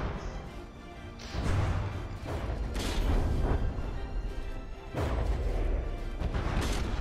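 Heavy booming blasts of ship cannon fire in a video game with crashing impacts, several loud shots at irregular intervals over a rumbling background.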